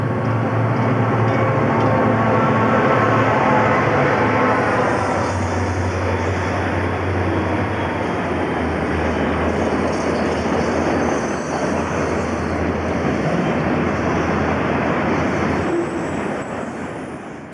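A Chicago and North Western freight train passes at Grand Island, Nebraska in 1988, a loud, steady, continuous roar and rumble of engines and rolling cars lasting throughout, close by, with no voices.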